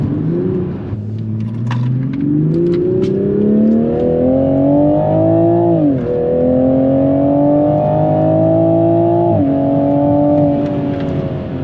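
Toyota Supra on fresh tires pulling hard from 4,000 rpm, its engine note climbing steadily in pitch with brief dips at each upshift, loud and continuous from inside the car.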